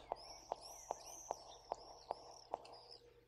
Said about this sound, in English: Birds.